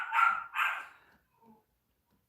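A dog gives two loud, close barks in quick succession, followed by quiet.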